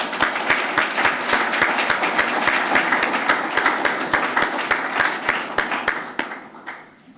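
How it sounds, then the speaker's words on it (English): A panel discussion audience at a Raleigh UDO lessons-learned session gives a round of applause, a steady crowd clapping with one person's sharp, evenly spaced claps standing out on top, fading away over the last second. "let's give a round of applause"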